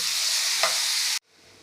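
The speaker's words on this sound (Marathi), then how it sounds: "आपल्याला इथे केळी घालायची आहे हे छान अशी तुपामध्ये आपल्याला परतवून घ्यायची आहे" Banana pieces frying in ghee in a pan for a sweet semolina offering, giving a loud steady broadband sizzle for just over a second before cutting off to near silence, with no voices.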